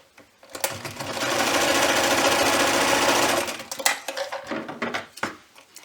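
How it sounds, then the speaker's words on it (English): A sewing machine runs a steady zigzag stitch down the side of a folded fleece strip for an ear warmer, a fast continuous whir for about three seconds, followed by clicks and handling noises. "You're going to fold it in half and you're just going to stitch down the"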